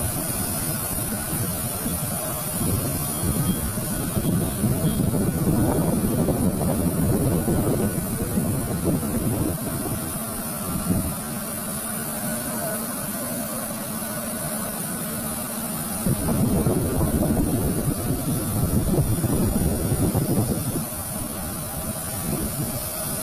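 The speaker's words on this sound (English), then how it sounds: "how to grind the crankshaft of the engine" Grinding wheel working a Cummins engine crankshaft in a workshop, with coolant fluid in use. It gives a continuous buzzing, whirring hum that swells louder in two long stretches and eases between them.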